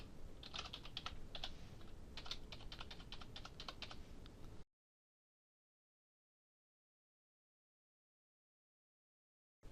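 Rapid keystrokes on a computer keyboard as a password is typed, a dense burst of clicks for about four and a half seconds, then silence.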